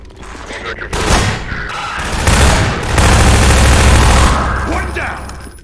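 Gunfire in the video game Half-Life 2 as soldiers are shot, loud rapid bursts of shooting and booms in a dense continuous barrage, with voices talking over the action.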